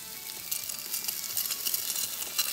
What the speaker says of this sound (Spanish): Se va empezando a sofreír y de esa manera vamos a tener un huevo perfectamente redondo.